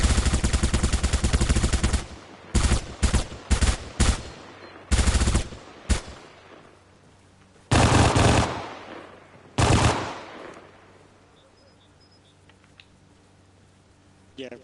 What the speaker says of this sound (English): the M7 actually fucking sounds like the M7 in this one